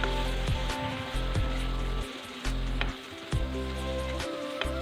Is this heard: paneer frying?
yes